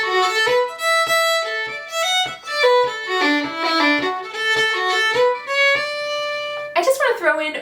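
A fiddle plays a jig smoothly with many slurred notes, flowing in a lilting, connected line, close and clear, ending in a brief different sound.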